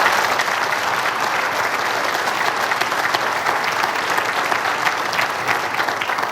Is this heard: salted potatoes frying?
no